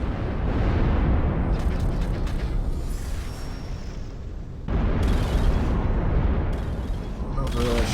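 Airstrike explosions in the strategy game Ashes of the Singularity come as loud, dense rolling blasts and rumble, with a sharp drop around the middle before a fresh burst of detonations hits and keeps crackling.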